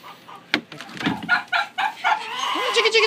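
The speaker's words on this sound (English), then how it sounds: "This is where the chickens are at." Chickens cluck and squawk in a farm chicken yard, a run of close, loud bird calls with a person talking in between.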